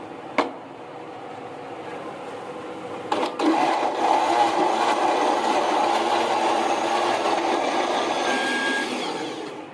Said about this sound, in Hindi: अब इसे हम ग्राइंड कर लेते हैं।